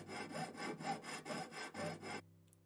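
A hand saw cutting in the Ship Graveyard Simulator video game: about seven steady back-and-forth rasping strokes, close and fairly loud, then the sawing stops and only a low hum remains.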